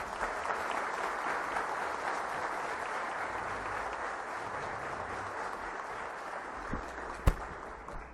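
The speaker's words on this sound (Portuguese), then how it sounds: "vamos receber agora, com uma calorosa salva de palmas, o ex-ministro Ciro Gomes para proferir sua palestra" Warm, steady applause from an audience at a trade union congress welcoming a former minister to the stage, even clapping throughout with a sharp knock near the end.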